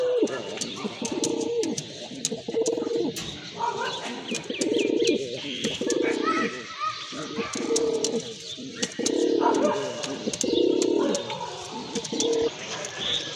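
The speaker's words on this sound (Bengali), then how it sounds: "এই যে দেখেন কবুতর জোড়াটা খুবই সুন্দর।" Pair of pigeons cooing in repeated low, rounded phrases close by, joined by other bird chirps and calls in the background at a pigeon sale.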